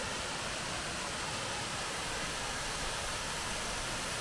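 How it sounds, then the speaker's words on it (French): Waterfall on the GR 52 trail in the Vallée des Merveilles, a steady broadband roar of falling water filling the whole clip at close range, with no voices. "il y a la deuxième cascade"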